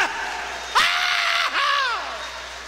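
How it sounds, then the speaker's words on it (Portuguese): A church congregation claps and shouts praise together, with loud overlapping voices rising and falling in long cries over a busy crowd roar. "Mais 5 segundos, só de palmas e glória a Deus, vai."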